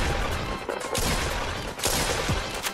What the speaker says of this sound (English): Okay, he's shooting rocket launchers.